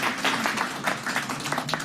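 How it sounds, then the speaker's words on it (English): Audience applause at an Atlanta City Council transportation committee meeting, a short burst of scattered hand clapping filling a room, steady and moderately loud throughout. "I'm going to ask for the applaud to stop."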